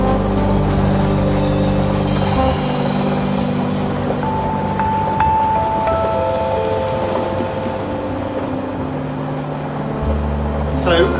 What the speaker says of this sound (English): So tonight we've come out on a train.